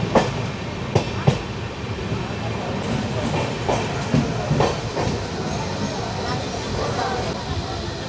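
The 13009 Doon Express running on rails near Bardhaman Junction: a continuous rolling rumble with hiss and scattered clickety-clack knocks from the wheels, heard close and steady throughout.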